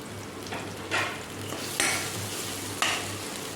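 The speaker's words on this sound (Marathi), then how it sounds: "आता हे कांदा टोमॅटो छान फ्राय झालेलं आहे" Onion and tomato frying in a pan, with a steady sizzle under three short bursts of stirring or scraping that come at even intervals.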